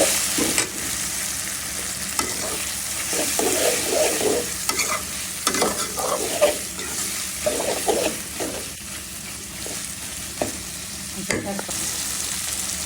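Shrimp being stir-fried with tomato in oil in a pan, a steady close sizzle punctuated by repeated spatula scrapes and knocks against the pan, no voices.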